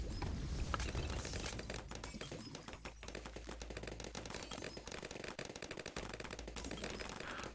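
Turrets firing in the tower-defence video game Bloons TD 6, a dense, continuous rattle of rapid game shots layered with popping effects, steady and loud throughout with no talk.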